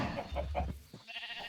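Sheep bleating in the Minecraft video game, with several short repeated bleats close together followed by a brief gap and softer farm-animal noise.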